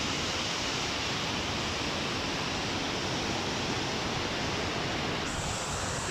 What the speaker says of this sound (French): C'est une des plus belles cascades que j'ai vues.